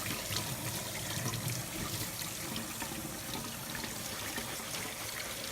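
Water runs faintly and steadily from a tap while chillies are rinsed out for a chipotle chilli con carne, a soft continuous trickle and splash with no talking.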